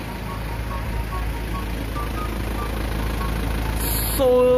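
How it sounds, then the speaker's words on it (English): A running engine holds a steady low idling drone throughout, close and constant, and a brief higher tone cuts in near the end. "Naririnig ko yung tunog ng engine."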